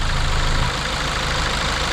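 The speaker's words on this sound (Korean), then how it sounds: "그리고 엔진 소음 자체가 일정해야 된다는 거예요" A Kia Carnival diesel engine idling steadily just after starting, a loud, even low rumble with a faint rhythmic knock and no voices over it.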